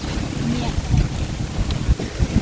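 Cold wind blows outdoors, pushing a loud, steady low rumble across the microphone with small fluctuating gusts over a couple of seconds.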